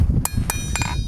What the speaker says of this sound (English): I'm using a very light hammer